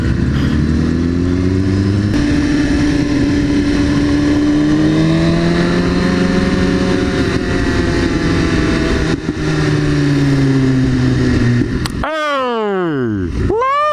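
McLaren sports car engine droning steadily as it passes nearby, with a wavering tone and a sharp sweeping pass near the end, under excited talk.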